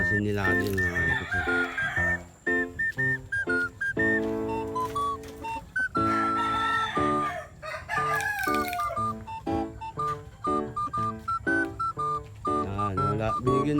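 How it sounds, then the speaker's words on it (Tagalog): Farm chickens cluck and a rooster crows loudly and close by, with overlapping calls that rise and fall throughout. "si Kerat manok natin mga ka-FX."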